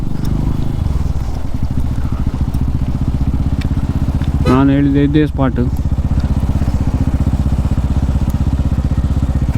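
A motorcycle engine idles and rumbles steadily close by while the bike is parked at the Bisle Ghat bridge viewpoint, with a brief spoken remark over it midway.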